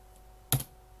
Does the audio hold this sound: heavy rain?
no